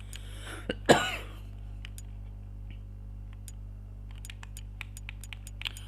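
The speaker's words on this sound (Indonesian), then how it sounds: "sedikit batuk ya teman-teman" A single sharp cough, close and loud, followed by quiet with faint scattered ticking in the background.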